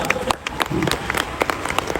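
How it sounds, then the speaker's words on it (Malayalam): Audience at a NEXUS 2025 event claps for a speaker, a short burst of scattered, uneven hand claps from a modest crowd, close and fairly loud, with faint murmuring underneath. "ഒരു ശക്തമായ കയ്യടി അദ്ദേഹത്തിന് കൊടുക്കുക"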